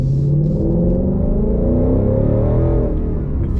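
A Ford Mustang GT accelerates hard, heard from inside the car. Its engine note climbs steadily in pitch as a loud, sustained roar, then eases off near the end.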